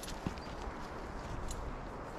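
A horse walks a trail on a National Pony Express ride, its hooves clopping faintly and irregularly beneath steady wind and outdoor rumble.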